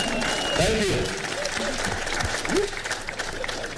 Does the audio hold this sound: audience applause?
yes